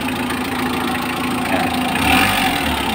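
A Mitsubishi engine with a clutch fan running steadily at a near idle, a loud continuous hum and whir that swells briefly toward the end as the engine is revved.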